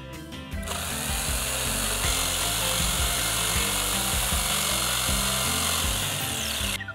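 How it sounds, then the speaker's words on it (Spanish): Continuous sawing through wooden crossbars for an outdoor xylophone build, a steady loud rasping grind running almost the whole time, close by, with no talking. "Vamos a cortar los dos travesaños."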